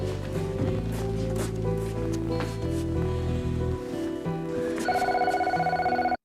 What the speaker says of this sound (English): You hear that ring? Oh, I love it. Ooh, that's a sexy cordless.